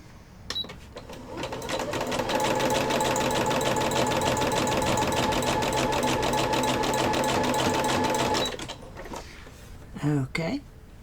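Sewing machine stitching top seams, running in one steady rapid whir for several seconds before stopping, with a person speaking briefly at the end.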